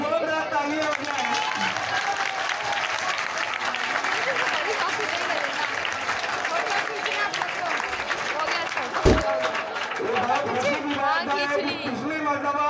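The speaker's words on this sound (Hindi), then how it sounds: "जोरदार तालियां हो जाए" A crowd at a school award ceremony claps loudly and steadily for a student, with chatter and voices mixed into the sustained applause throughout.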